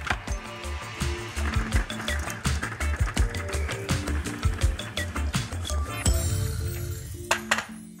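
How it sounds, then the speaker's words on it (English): Finely chopping ginger, garlic and chilli with a knife on a board for a Madras fish curry: a rapid, steady run of close knife taps, loud and continuous, with a few sharper clinks near the end. "I'm going to chop this until it's really fine."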